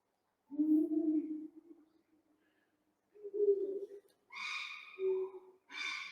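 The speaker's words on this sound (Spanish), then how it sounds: "en un risco, en un cortado, donde están cantando los búhos reales" Eagle owls calling from a rocky cliff in Monfragüe in winter: deep, low hoots repeated with pauses, their calls stretched by echoes off the rock wall. Some higher, brighter calls mix in near the end, faint and distant overall.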